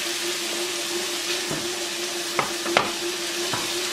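Steady sizzling of carrots and garlic sautéing in a pan, with a few light clinks and stirring scrapes over a constant hiss.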